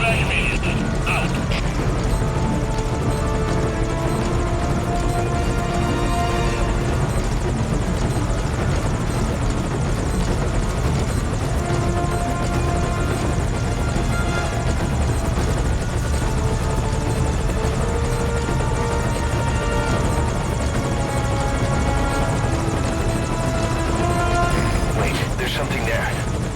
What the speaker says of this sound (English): Attack aircraft still inbound.